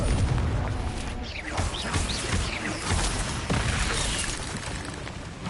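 A Confringo fire-spell explosion in a Hogwarts wizarding video game sounds as a heavy boom with crackling, shattering debris, loud and close, followed by rolling rumbles and further scattered bursts of game combat.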